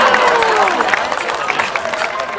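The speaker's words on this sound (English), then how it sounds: "let's have a big clap for our next sheep" A crowd at a sheep show at the Surrey County Show claps and cheers for a sheep, a short, fairly loud burst of applause with music playing faintly underneath.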